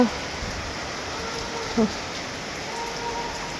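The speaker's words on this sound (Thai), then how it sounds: "น้ำฝนตกมันสาดเข่าลมอยู่พี่น้องลมมันตีเข้ามา" Wind-driven rain sweeps into a house, a steady broadband hiss of spray and drizzle lasting throughout, with a brief louder splash partway.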